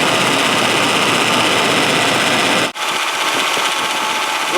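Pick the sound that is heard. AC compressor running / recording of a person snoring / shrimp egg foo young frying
AC compressor running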